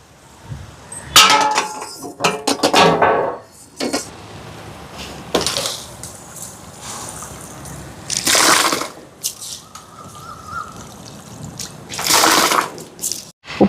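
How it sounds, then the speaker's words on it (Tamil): Washed rice tipped into a pot of boiling water in a home kitchen, giving several bursts of pouring, splashing and rattling grains with clinks against the metal pot and quieter bubbling between. "அரிசியை போடுவோம்."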